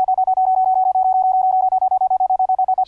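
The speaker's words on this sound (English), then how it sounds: "Sending dits as fast as the logic key would send it." A sine wave oscillator keyed by a logic key sends a rapid, evenly spaced train of Morse code dits as a single clean pitched tone, loud and steady for about three seconds, with no talking.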